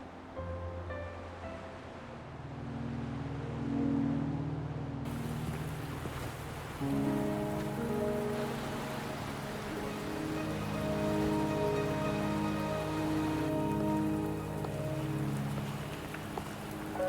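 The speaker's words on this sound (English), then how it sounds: "Are you trapped here by the rain?" Steady rain in the video game Wuthering Waves, a continuous hiss of falling water that runs throughout under soft sustained musical tones, with no talking.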